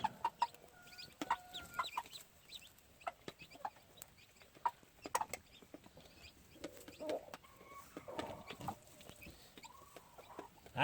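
Tame brown red gamefowl chickens give scattered soft clucks and a few louder calls, close by, over a low farm background, with no voices.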